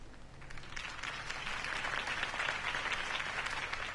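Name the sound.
crowd applause in Batman video game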